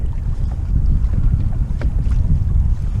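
Gusty wind on a small lake buffets a Hobie Outback kayak, a loud continuous low roar with rushing waves of noise across the whole stretch.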